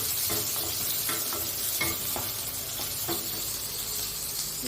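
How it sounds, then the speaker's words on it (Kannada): Onions frying in a pan with a cut green chili, a steady close sizzle with repeated stirring scrapes throughout, no voices. "ಈರುಳ್ಳಿ ಸ್ವಲ್ಪ ಚೆನ್ನಾಗಿ ಫ್ರೈ ಆಗಿ"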